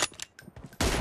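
Gunfire in PUBG Mobile: a few short bursts early on, then a loud, dense volley of shots in the final fifth that fills the whole range and stays close and sustained.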